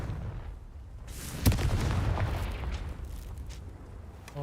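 A Confringo spell explosion in the Hogwarts Legacy video game sets off a single sharp burst, followed by a rumbling, crackling tail that slowly fades.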